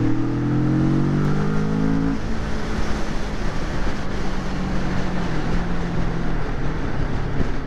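A Kawasaki Vulcan S cruiser, a 2023 model about a year old, rides along with a steady engine drone that eases off after a brief rev, under constant wind and road rush.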